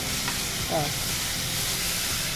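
Green chillies frying in a hot pan, giving a steady bright sizzle that fills the whole clip, with a brief stirring scrape partway through.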